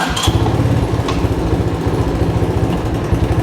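A cold 1985 Honda ATC200M three-wheeler engine starts with a brief crank and settles into a steady, loud, throbbing run close by, with no talking.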